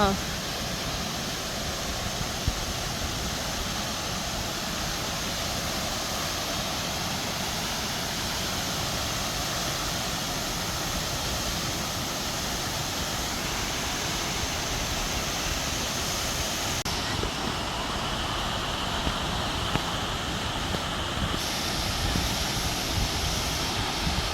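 Germany's highest waterfall in the Black Forest rushes as a steady, dense roar of falling water, constant and fairly loud throughout with some breezy wind noise mixed in.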